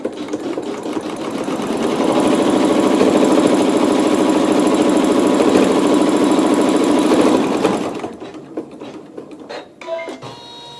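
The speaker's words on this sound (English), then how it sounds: "go ahead and stitch that seam" A sewing machine stitches a seam in one steady, rapid run of needle strokes lasting several seconds, close and even, then stops, followed by a few small clicks and handling noises.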